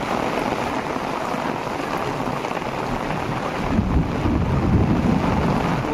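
Heavy rain with gusting wind during a thunderstorm on a hillside, a steady dense roar battering the microphone, swelling louder in the last couple of seconds, with no voices.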